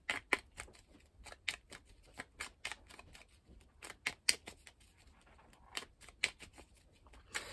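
Tarot cards shuffled and drawn by hand, making a quick run of crisp, close riffling snaps and flicks in uneven bursts with short pauses between, with no voices.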